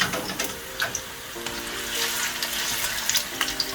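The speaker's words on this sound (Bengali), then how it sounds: "আমাদের তেলটা গরম হয়ে গেছে আমি পেঁয়াজ কুচিটা দিয়ে দিচ্ছি" Chopped onion sizzles steadily in hot oil for beef tehari, a close, continuous crackle with occasional clicks and stirring scrapes of a utensil in the pan.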